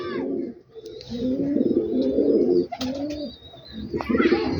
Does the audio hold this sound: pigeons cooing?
yes